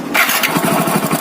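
A Hero Splendor Plus BS6 motorcycle with suspected timing chain noise starts up: a brief, loud, close crank catches into a rough, rapidly pulsing engine note.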